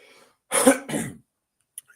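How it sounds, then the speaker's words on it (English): A short, forceful throat clearing followed by a second rough cough, close to the microphone, with near silence after. "I'm trying to get this cough out"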